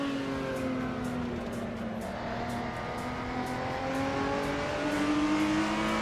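Race car engine revving in an Assetto Corsa sim race, a steady rising and falling drone as gears climb through repeated shifts, loud and continuous with no voices.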